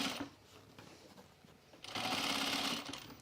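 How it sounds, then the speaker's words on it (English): A sewing machine stay stitching the edge of a cropped jacket: a quiet pause, then a steady, fairly close mechanical whir of continuous stitching. "I think I'm gonna stay stitch this edge right here"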